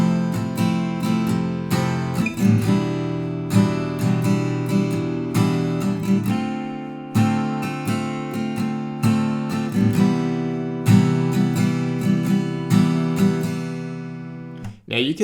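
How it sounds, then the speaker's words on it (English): Acoustic guitar strumming the four chords of a song without a capo, a steady strumming pattern with regular chord changes, close and clear with no voice. "I'm going to play each chord for one strumming pattern, and it'll sound like this."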